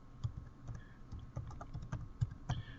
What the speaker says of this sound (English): Here we will type in Google Maps.